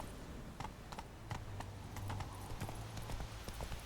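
Horse hooves clip-clop in The Witcher 3 as the rider passes a guard, giving a steady, moderately paced run of hollow knocks over a low, continuous hum.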